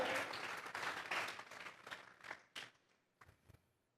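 A church congregation applauds together, with dense, even clapping that thins out and fades to a few scattered claps before ending.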